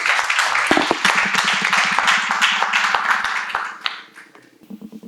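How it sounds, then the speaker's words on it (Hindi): A seated audience at a first-aid and CPR training session claps, distinct individual hand claps at first that blend into brisk group applause, then thin out and fade to scattered claps near the end. "ताली बजाइए इनके लिए।"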